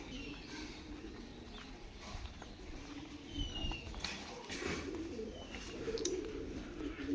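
Male pigeons cooing softly in a loft, faint low coos repeating amid quiet background rustling and hiss.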